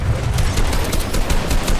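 Rapid bursts of automatic gunfire in the video game Fortnite, dense and continuous, with sharp repeated shots layered over a steady wash of game noise.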